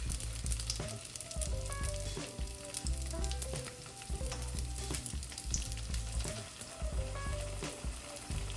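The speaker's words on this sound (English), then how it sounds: "And then this one we're gonna fry it, but we're gonna pull it out faster for the people who like theirs really light." Philly cheesesteak and cheese egg rolls deep fry in hot oil, a steady close crackling sizzle with occasional bubbling pops and light stirring clinks throughout.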